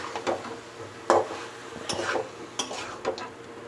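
A spoon stirs chicken seasoned with pink salt around a pan in a few distinct scraping strokes, with a soft sizzle underneath and light metal clinks, close and fairly loud, no talking.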